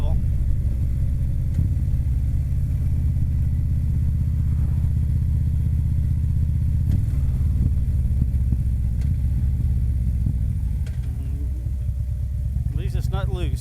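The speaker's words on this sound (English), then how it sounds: "I'm going to have to turn up into a gravel drive, and I think I've previously told you how much I love being on a motorcycle on gravel." Motorcycle engine rumbling steadily as the bike rides slowly up a gravel drive, a constant close low drone with faint crunch and clatter.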